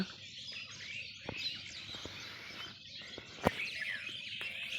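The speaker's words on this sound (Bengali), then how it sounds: "সেখানে দেখতে পাচ্ছেন আপনার সামনে দুটি পাখি তাদের আহার জোগাড় করছে।" Birds chirp and call near rice fields being sown on a calm, cold morning, steady overlapping tweets with one sharp louder note midway, no talk.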